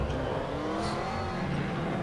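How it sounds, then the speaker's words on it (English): A race car in Assetto Corsa sweeps past with a steady, loud engine whir and roar that holds evenly for about two seconds, with no talking. "Just wait for that car to go."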